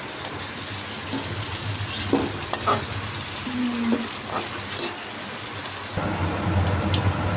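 Steady sizzling of potato and pointed gourd frying in hot oil, with occasional scraping and stirring sounds; a short tonal clink partway, and the texture shifts near the end.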